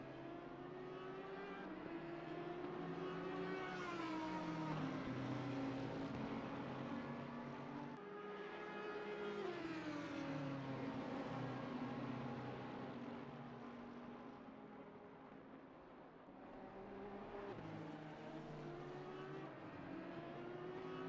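Race cars in Assetto Corsa Competizione, including an Audi, roar around Kyalami in a continuous loud engine drone, with pitch rising and falling through gear shifts as cars pass.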